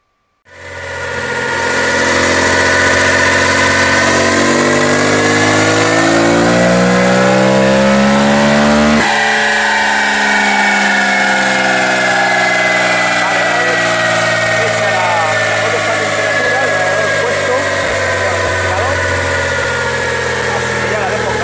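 An Aprilia Tuareg 660 parallel-twin motorcycle engine on a dynamometer: loud and steady, first held near idle, then revving up so the pitch climbs, with a sharp change around the midpoint before it keeps running hard.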